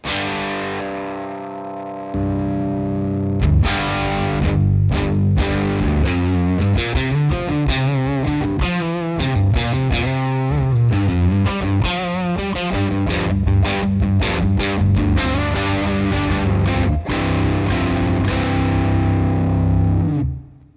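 Distorted electric guitar riff played through a Jam Pedals Eureka fuzz pedal, starting clean with the pedal off for a couple of seconds, then kicking into a loud, thick, steady bass-boosted tone with rapid picked notes and chords, no talking.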